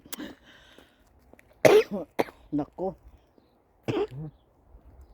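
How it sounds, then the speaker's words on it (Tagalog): A person coughs several times in short, harsh bursts, close by, with a brief spoken word mixed in between the coughs. "inuubo na ako sa lamig"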